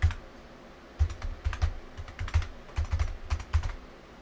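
A password is typed on a computer keyboard, with irregular bursts of close, crisp key clicks and a few heavier taps, quiet with no talking.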